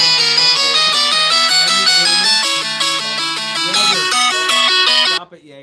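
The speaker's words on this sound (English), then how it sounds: "That was the phone. That was his ringing tone." A mobile phone ringtone plays a loud, repeating electronic melody of bright stepped notes, then cuts off abruptly just before the end.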